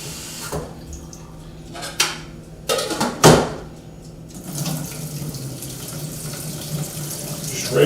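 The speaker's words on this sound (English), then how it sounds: "I want to give it one good rinse in some good cold water." Cold tap water runs over broccoli in a kitchen sink: a steady close stream of splashing, broken by a few knocks and clanks of the pan or colander as it is handled.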